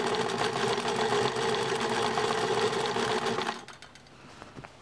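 A sewing machine runs steadily as it stitches up a tote bag handle, a close, loud, even mechanical whir with rapid needle rhythm that slows and stops after a few seconds, leaving quiet clicks.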